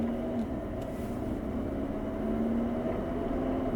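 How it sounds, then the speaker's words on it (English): Inside a 2022 Hyundai Elantra N with DCT, the exhaust in Eco mode gives a steady low drone, a constant engine tone that holds at an even level with a slight rise in pitch, with no speech. "So we're going to test the exhaust here, so just listen."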